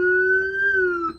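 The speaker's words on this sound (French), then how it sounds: "Tu veux mettre la sirène?" A police car siren sounds loud and close as a steady electronic tone, holding its pitch for about a second before cutting off abruptly.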